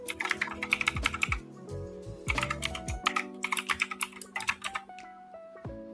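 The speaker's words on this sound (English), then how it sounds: "You have the loudest damn keyboard." Rapid, loud clacking of a gaming computer keyboard being typed on in bursts, with sustained tonal sounds and music running underneath throughout.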